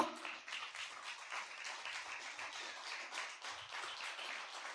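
A church congregation at a prayer meeting applauding, a continuous wash of many hands clapping at moderate volume, slightly distant and steady for the whole stretch.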